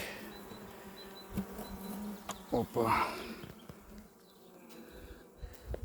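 Honeybees carrying pollen, buzzing around a hive frame during an inspection: a soft, continuous hum close by, with a few louder buzzing bursts near the middle and one brief spoken exclamation.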